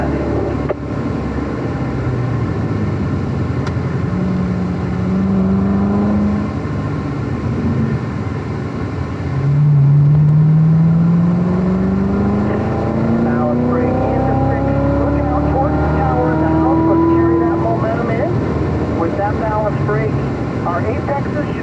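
A Corvette Z06 accelerates on a race track, its engine note climbing in long rising sweeps between gentler stretches while someone talks steadily over it.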